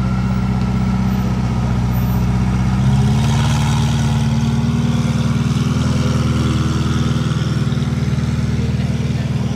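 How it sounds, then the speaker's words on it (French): A Ferrari Pista with a non-stock aftermarket exhaust rumbles steadily and loudly close by, a deep continuous engine drone that holds throughout without revving up or fading away. "Cette pista fait beaucoup de bruit, trop de bruit"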